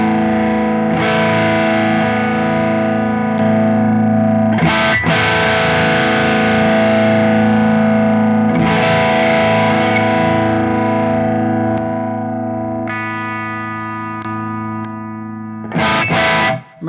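Electric guitar runs through Wampler Tumnus overdrive pedals, ringing out several loud, sustained distorted chords. Each chord decays over a few seconds before the next is struck, with no voices.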